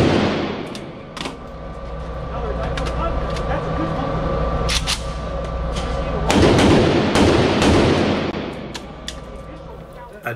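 Gunshots fired at a center-mass target during a two-magazine shooting competition, sharp cracks scattered across a noisy outdoor background, with a louder burst of activity in the later part and voices talking throughout.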